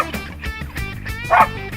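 Hunting dogs bark and yip excitedly at a raccoon up a tree, a rapid overlapping run of close, loud barks with a higher yelp near the end.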